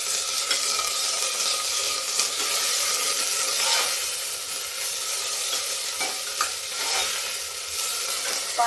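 Masoor dal and okra being fried in a pan at home, a continuous loud sizzle and crackle with occasional stirring scrapes and pops, close by and without voices.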